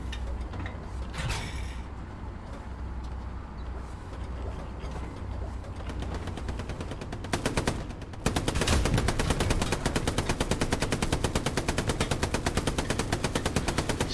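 Sustained rapid machine-gun fire in an online shooter game, steady background shooting giving way to loud, dense continuous bursts near the end.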